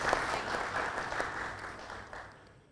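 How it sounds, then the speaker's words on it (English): Audience applause at an HR expert panel event in Lahore, steady clapping from a room full of people that holds for a few seconds, then thins and fades toward the end. "So huge round of applause, everyone."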